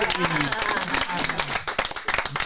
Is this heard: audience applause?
yes